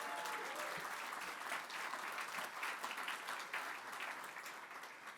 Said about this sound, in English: you can give Barbara Mikulski a round of applause.